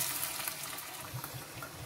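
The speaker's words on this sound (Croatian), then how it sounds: "I odmah nalite 1 šoljicu vode" Water pours into a pan over rice just washed in a fish recipe, a steady splashing pour that runs close and continuous with a faint sizzle underneath, no talk.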